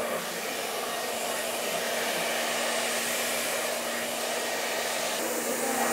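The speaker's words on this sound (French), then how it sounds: "Donc, avec le séchoir." A hair dryer blows steadily on short hair, a constant loud whooshing drone with a faint motor whine that holds for several seconds, close up and without talking.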